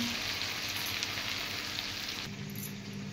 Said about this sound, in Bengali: এবার এটা ভাজা হতে দেব।